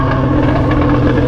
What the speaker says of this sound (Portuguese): Esse que é o massa da moto ser barulhenta